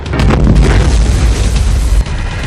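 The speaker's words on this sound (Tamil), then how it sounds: "அப்போது அது திடீரென வெடித்து சிதறியது." Sudden explosive boom from a battery bursting while charging on a farm, a loud, dense blast sustained across the clip with a brief dip near the end, no voices.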